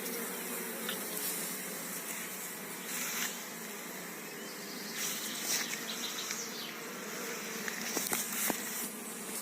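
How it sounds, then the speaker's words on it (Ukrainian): A honeybee swarm at an apiary makes a dense, steady buzz that fills the whole stretch, with occasional louder passes as individual bees fly close by. No one speaks. "Ось такий у нас рій."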